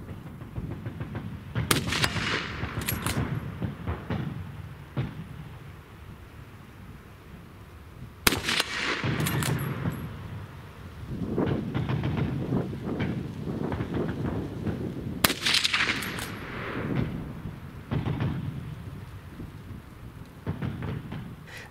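A Mk III Ross rifle is fired, giving several sharp, loud reports spaced seconds apart, each trailing into a rumbling echo over a steady background, with no talking.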